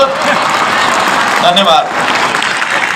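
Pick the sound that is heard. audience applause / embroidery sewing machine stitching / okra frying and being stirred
audience applause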